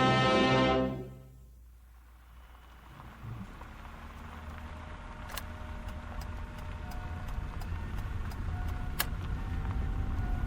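Car arriving at a cemetery in a radio drama sound effect: a loud engine rumble fades quickly, leaving a steady patter of rain with a few sharp drips and clicks, no voices.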